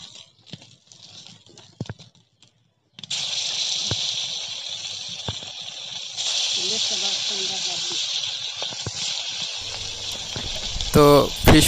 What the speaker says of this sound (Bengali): মাছ ভাজি করার সময় যে তেলের যে শব্দটা হয় না, সেটি কিন্তু আমার খুব ভালো লাগে শুনতে